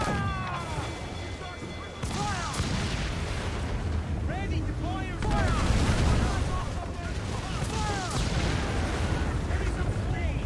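Ship cannons boom in Assassin's Creed IV: Black Flag during a legendary ship fight, heavy repeated blasts and rumbling volleys layered with shouting voices and battle noise, loud and continuous.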